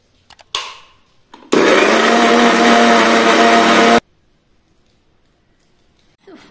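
A kitchen mixer grinder whirs loudly and steadily for about two and a half seconds, starting and stopping abruptly, with a few faint knocks before it and near silence after.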